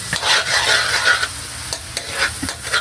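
Buttered shrimp with corn sauce stirred in a sizzling pan, a continuous scraping, frying hiss with occasional spoon clicks, no voices over it.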